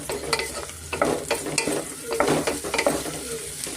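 Mushrooms and onion frying in a little oil with turmeric for a green mushroom pulao, stirred in repeated scraping strokes over a steady close sizzle, with no talking.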